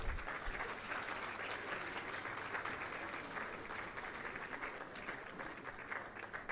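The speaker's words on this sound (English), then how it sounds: "I request everyone with us today to extend our warm wishes to the author and editor, Dr. Aishwarya Pandit, with a round of applause." An audience at a book launch applauds, a steady wash of many hands clapping that carries evenly from start to finish, fairly distant and without voices.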